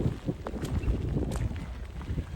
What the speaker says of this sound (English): I can feel the wind is picking up as we're coming over the top of the saddle.